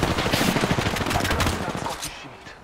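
Rapid automatic gunfire in Apex Legends, dense bursts of shots crackling for about two seconds before cutting off, loud and close.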